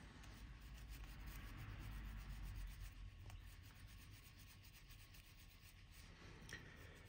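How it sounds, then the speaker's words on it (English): A brush gently scrubs the switch contacts inside a Sansui Alpha AU-907MR amplifier being restored, a faint, steady close-up rubbing and scratching with no talking. "So I'm going to get in with a brush and gingerly, gently scrub these"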